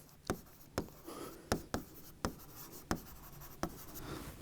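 Handwriting on paper while a carbon balance is worked out, with a steady series of sharp pen or chalk strokes in a quick, uneven rhythm, close and fairly quiet with no talk.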